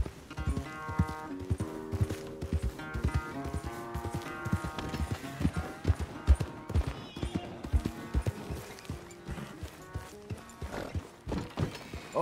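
Horse hooves clip-clop in a steady walking rhythm in Red Dead Redemption 2, fairly close and clear, with game music and ambience running underneath.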